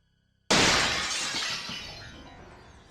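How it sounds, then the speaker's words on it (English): A bedroom window's glass shatters at night: a sudden loud crash after brief silence, then a long decaying spray of breaking glass fading over a couple of seconds. "I woke up to the sound of my window shattering"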